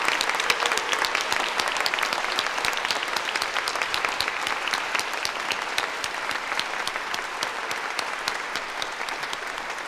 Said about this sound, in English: help me give another round of applause and thank you to the wonderful members of the Indianapolis Children's Choir